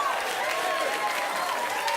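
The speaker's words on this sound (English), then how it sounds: "let your applause and your cheering and your genuine joy die away" A dense burst of studio audience applause and cheering on a late-night talk show, loud and continuous throughout with no pause.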